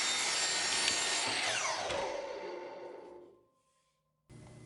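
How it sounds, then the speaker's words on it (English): A power saw cuts through a wooden base for a motor mount, a loud continuous whine that descends in pitch as the blade spins down, followed by a brief silence and a new burst of noise. "The first thing we need to do is cut a base to hold our motor"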